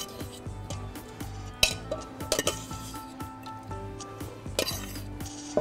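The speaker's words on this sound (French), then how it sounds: "Nous allons prendre la morue et la mettre" Salt cod is stirred into chopped onions with chives, parsley and chili in a bowl, giving close clinks of a utensil against the bowl and soft wet squelches in an irregular rhythm, with no voice over it.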